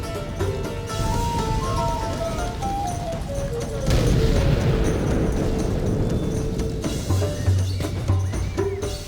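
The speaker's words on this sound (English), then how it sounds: "He's firing from this position at the walls of the keep." Cannon fire against the walls of a castle keep in Medieval II: Total War, a heavy rumbling boom and crash midway through, set amid continuous battle din and game music, with no speech.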